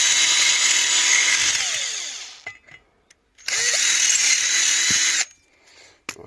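A power drill running a 6.5mm bit while opening a hole during wheel lacing work on a Honda CD175 restoration, two loud steady whirring bursts separated by quiet pauses with small clicks.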